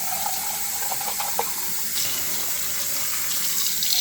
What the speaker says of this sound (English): I'll just rinse those out